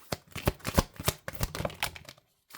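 Angel cards shuffled by hand, a close run of crisp riffling flicks and slaps in uneven bursts, ending in a brief pause before one last snap.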